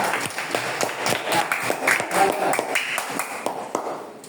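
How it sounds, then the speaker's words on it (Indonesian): Classroom audience claps for a presenting student group in an open class session, a steady patter of many hands at moderate loudness that thins out toward the end, with no talk over it. "Ayo, tepuk tangan buat mereka"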